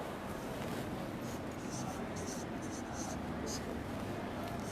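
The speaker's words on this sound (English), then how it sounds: "There is another word I want to write on the board the word mow" Faint scratchy strokes of writing on a classroom board during an English lesson, coming in short bursts over a steady room hiss.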